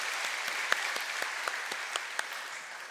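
Applause for a church elder during a church's lay Sunday service, a dense, steady clapping from a congregation that lasts about three seconds and fades slightly at the end.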